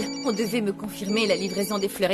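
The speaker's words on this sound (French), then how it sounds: "C'est mon téléphone." A mobile phone rings with a repeating electronic tone while someone speaks over it, her voice nearly as loud as the ringing.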